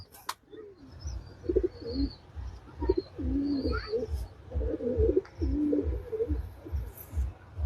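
Shahjahani pigeons coo steadily in low, throaty, repeated phrases, close by, with a few faint chirps in the background.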